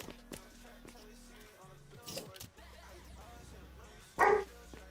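A dog gives a single sharp bark near the end, preceded by faint yips and rustling against a quiet indoor background with no talk.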